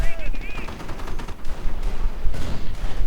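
Rapid gunfire and machine-gun bursts crackle through a WWII strategy video game battle between American and German forces, dense and steady, with game effects and a faint voice mixed in.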